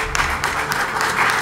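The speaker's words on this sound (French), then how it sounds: "Les équipes sont fair-play et s'applaudissent." Teams of high school students applauding each other at a televised quiz competition, a dense, steady burst of clapping from a crowd, close and fairly loud, with no clear voices.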